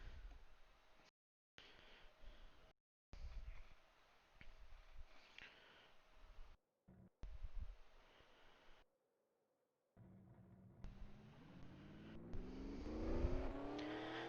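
Race cars of the FAST MTN Dew Dash Series roll out at Pocono Raceway, engines rumbling through a choppy, repeatedly cut recording before one car revs up loudly near the end.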